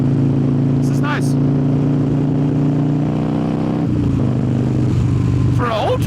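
A 2003 Harley-Davidson Softail Standard with a twin cam engine rumbles steadily while being ridden, a loud continuous drone with a drop in engine pitch midway and wind rush around it.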